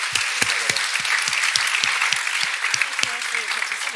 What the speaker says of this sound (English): Please join me in giving the panelists a big round of applause